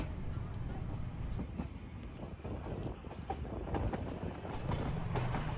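The Nilgiri Mountain Railway toy train runs between Ooty and Coonoor, giving a steady rumble and rattle of carriages with faint clicking on the rails and light wind noise, heard continuously from inside.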